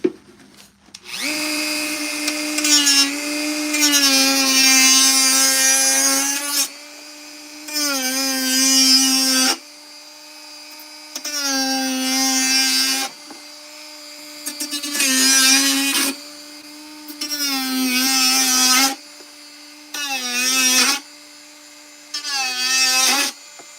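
A power tool whines in repeated bursts while trimming a lip off plastic clone trooper armor, each run several seconds long with short pauses between, close and loud with no talk.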